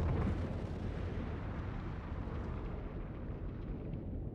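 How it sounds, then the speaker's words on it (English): The Praxis moon explosion sound effect from Star Trek, a deep rumbling blast that starts loud and slowly dies away into a heavy low roar over several seconds, with no speech. "did you know the explosion of Praxis? It's the explosion of the Death Star."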